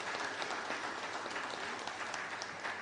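Congregation at a Thursday Mass for the Virgin of Fátima breaks into strong, sustained applause, a dense even clatter of many hands that fills the whole stretch without talk.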